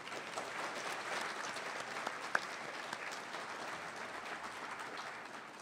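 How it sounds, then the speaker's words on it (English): A room full of people at a City Club forum in Oregon gives warm, sustained applause to sponsors, an even wash of many hands clapping at moderate distance, with a couple of sharper single claps standing out. "Please join me in a warm round of applause for all of them."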